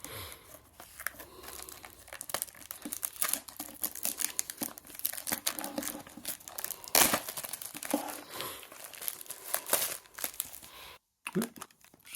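A Topps F1 Turbo Attax 2024 jumbo card box being opened by hand, a continuous close crinkling and tearing of cardboard and plastic wrapping with sharp rips and brief pauses.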